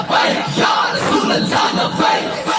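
A large crowd roars and chants Labbaik slogans together at a religious gathering of young men, a loud, dense wall of massed voices with surging rhythmic swells and no clear single speaker.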